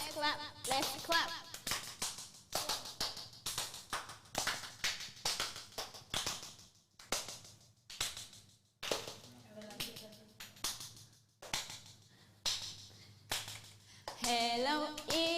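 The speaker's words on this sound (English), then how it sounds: "Let's clap, let's clap," A crowd at a dance festival claps hands in a steady repeated rhythm, close and fairly loud, with brief pauses between bursts and voices talking over parts of it.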